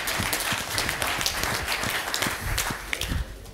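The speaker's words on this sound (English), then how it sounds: "Okay, give him a round of applause." Moderate audience applause at the MIPIM 2011 property investment event, a steady wash of clapping from a seated crowd lasting a few seconds without talk.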